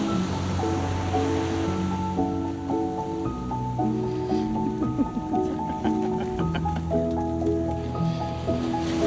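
Ocean surf rushes and breaks continuously along a beach where a Great Dane plays, a steady wash of noise heard beneath a layer of tonal music.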